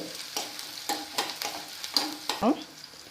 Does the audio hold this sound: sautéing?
yes